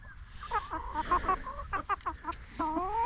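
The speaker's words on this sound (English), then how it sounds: "And there's my other rooster." A rooster clucks on a farm in a rapid run of short, throaty calls, close and moderately loud, with a longer drawn-out call near the end.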